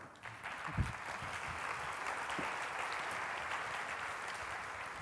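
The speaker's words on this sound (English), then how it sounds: "It really doesn't deserve an applause" Steady audience applause fills a lecture hall during a floral arrangement talk at The Metropolitan Museum of Art, a dense, even wash of many hands clapping at moderate distance that holds for several seconds.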